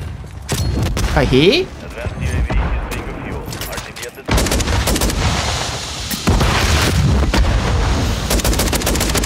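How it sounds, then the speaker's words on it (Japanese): Gunfire and a grenade blast from the shooter game Call of Duty: Modern Warfare III, with sharp repeated shots, booms and rumbling that come in bursts, and someone talks briefly over the action. "おっと、グレネード。"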